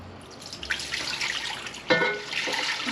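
Brine of vinegar and water poured into a pot for pickling peppers, a close, steady splashing pour with a sharper gush near the end and no talk.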